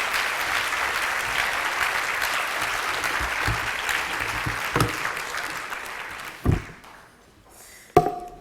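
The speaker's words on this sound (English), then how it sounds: "let's give a warm round of applause and a great welcome to Professor Rankin" Large breakfast-event audience giving a warm round of applause to welcome Professor Rankin, steady dense clapping for several seconds that thins out and fades, with a few scattered final claps.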